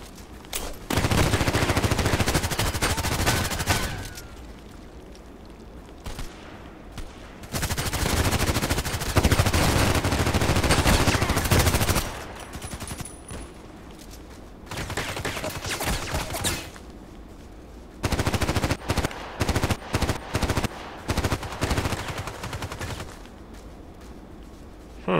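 Bursts of automatic gunfire from the Contract Wars shooter come in several long volleys separated by quieter gaps, ending with a string of short, rapid shots; no talking.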